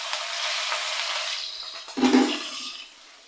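Raw chicken pieces hit a hot frying pan while making shashlik fried rice, a sharp burst of sizzling and spattering that swells and then settles after about a second, with a hissing fry throughout the clip.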